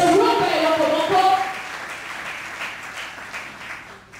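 A church congregation applauding and cheering in praise of the Lord during a worship service, a dense wash of clapping and crowd voices that gradually fades and thins out.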